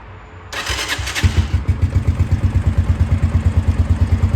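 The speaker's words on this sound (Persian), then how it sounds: "موتور رو روشن کنیم." A motorcycle engine cranks with a brief whir and clatter, catches, and settles into a loud, steady, close idle with a rapid, even pulsing beat.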